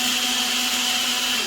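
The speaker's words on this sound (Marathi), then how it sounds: "झालेला आहे हा गाळ, आता परत मिक्सरला घ्यायचा आणि परत बघा आता आपलं सेकंड राऊंड" A mixer grinder runs continuously at full speed through a second round of grinding spice paste for a crab curry masala, a loud, close, steady whirring drone with no voices.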